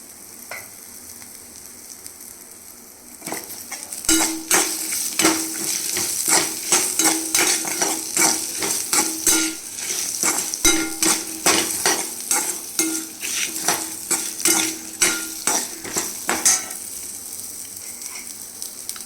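Small onions (shallots) for gooseberry chutney sizzle and crackle in hot oil in a pan, with steady stirring and scraping. Nothing for the first few seconds, then continuous frying.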